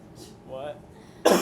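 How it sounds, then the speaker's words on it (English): One abrupt, loud cough right at the end, preceded by a quiet room with faint murmuring voice sounds. "I've had a cough"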